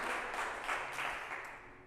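Applause from a church congregation, a steady wash of clapping that continues throughout at a moderate level, with no voices.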